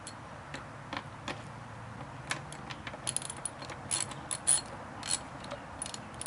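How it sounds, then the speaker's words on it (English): A ratchet socket clicks in short rapid bursts while loosening a bolt on the fender of a 2019 Kawasaki Z650, close and fairly quiet against a soft background. "there was another socket that didn't unscrew, so I'm unscrewing that now"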